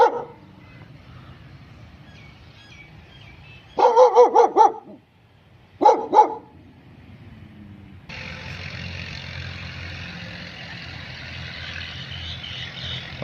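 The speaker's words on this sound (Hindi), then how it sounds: "ये कुत्ता बंधा हुआ है।" A tied-up dog at a locked tomb gate in Akora Khattak, Nowshera, barks in two quick bursts, a run of four then two more, loud and near against quiet outdoor background noise.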